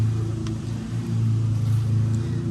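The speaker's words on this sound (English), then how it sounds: "So now just to start up the car, put it in gear while it's in the air, and see what happens." A Volvo 940 engine turns over and settles into a steady low idle, with the car raised in the air, a close continuous hum with a slight dip and rise in level.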